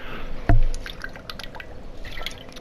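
Water dripping, one sharp loud drop followed by a faint scattered patter of smaller drips and trickles, close and quiet apart from the first impact.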